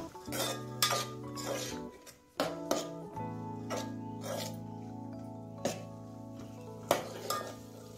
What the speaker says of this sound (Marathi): हरभरे पण छान असे भाजून घ्यायचे, थोडं 1-2 मिनिटं।